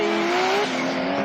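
A Porsche and a Nissan S14 race car at the start of a time attack run, heard as a sustained engine drone with a rising pitch under loud trackside noise, brief and fairly distant.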